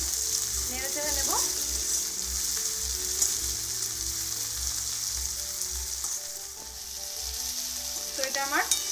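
Food frying and being stirred in a pan, a steady sizzle close up, with scraping stir strokes recurring through the clip and a low rhythmic hum underneath.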